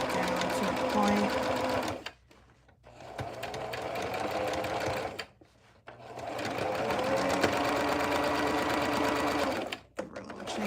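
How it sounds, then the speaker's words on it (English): A VikiSews Liliana vest is run through a sewing machine making a chain stitch: a loud, fast, steady mechanical whir in close, long runs broken by three short pauses. "Give her a little chain stitch."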